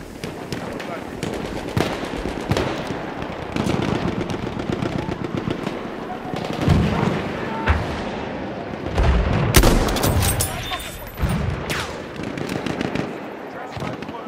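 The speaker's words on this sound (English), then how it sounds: "Look out, machine gun." Machine gun fire in the World War I shooter game Battlefield 1 on the Cape Helles map, with rapid bursts of gunfire, sharp cracks and heavy booms amid battle noise, while voices shout over the fighting.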